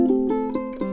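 A custom J. Yoshida tenor ukulele is picked in a quick run of four bright, ringing plucked notes over about a second, close and clear with no talking.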